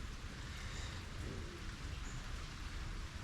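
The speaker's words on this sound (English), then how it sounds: "And it's pouring down the rain again." Heavy rain pours down in a steady, dense wash of noise with no gaps for the whole stretch, loud and close, and no one speaks.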